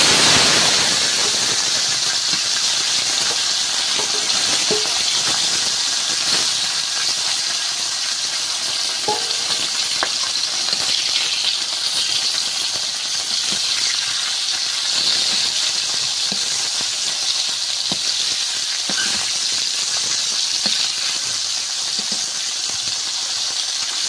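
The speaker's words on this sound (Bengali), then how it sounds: "তেলটা গরম হয়ে গিয়েছে, এবার মাছগুলো দিয়ে ভেজে নেব।" Tengra fish frying in hot oil, a steady bright sizzle with crackling spatters that runs continuously and close for the whole stretch, with no voices.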